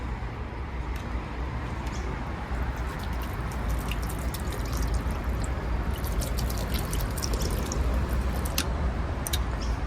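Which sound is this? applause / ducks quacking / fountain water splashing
fountain water splashing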